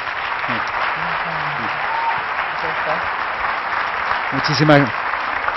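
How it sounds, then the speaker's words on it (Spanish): Audience applause for two speakers at a festival talk on cultural biology, a steady broadband wash of clapping from a large crowd throughout, with voices briefly talking over it near the end. "Démosle un gran aplauso a Jimena y Humberto."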